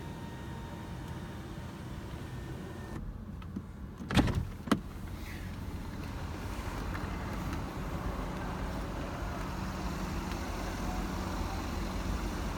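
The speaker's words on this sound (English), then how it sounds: "It's operated by the push of the buttons up here, just simply one touch." Electric panoramic roof on a 2017 Mercedes-Benz S500 AMG Line coupe opening at one touch, a steady motor whir inside the cabin with a couple of sharp mechanical clunks partway through.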